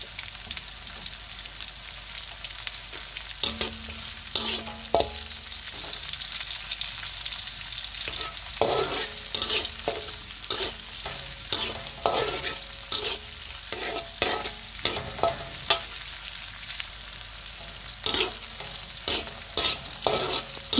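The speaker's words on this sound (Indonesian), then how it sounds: "Kita aduk-aduk sampai bumbunya benar-benar harum ya" Chilies and spices stir-frying with kencur leaves in a pan, a steady close sizzle broken by repeated scraping and clattering strokes of a spatula stirring throughout.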